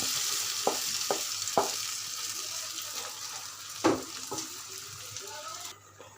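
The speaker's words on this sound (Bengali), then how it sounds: "এখন আমি এর মধ্যে পেঁয়াজ রসুন বাগার দিয়ে দিচ্ছি" Onion and garlic tempering hits a pot of lentil khichuri with a bright, steady sizzle up close, broken by a few sharp clinks of the pan and utensils before it fades near the end.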